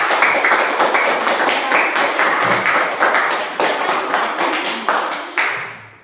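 A classroom of students claps together in a steady, rhythmic pattern for group 2, with loud, evenly spaced beats that continue for about six seconds before tapering off at the end.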